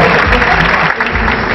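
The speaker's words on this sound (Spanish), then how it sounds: "¡Lo aplaudimos!" Audience applause at a business awards gala in Córdoba, a loud, dense, sustained clapping from a large crowd that fills the short stretch evenly.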